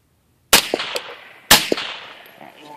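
Two sharp gunshots about a second apart from a firearm fitted with a homemade titanium suppressor, each a close, loud crack with a short decaying tail.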